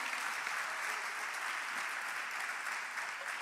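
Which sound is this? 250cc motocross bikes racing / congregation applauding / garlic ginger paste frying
congregation applauding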